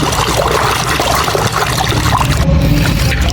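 Water runs steadily over a dirty yellow toy gun being washed, a close, continuous splashing trickle with no voices.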